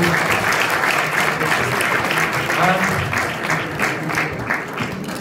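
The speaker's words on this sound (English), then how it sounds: "we ask everyone to play 1 minute of applause in the memory of Marvelous Marvin Hagler" Sustained audience applause at the WBC boxing convention in Mexico City, honouring boxer Marvin Hagler, a steady, full wash of clapping with some voices mixed in.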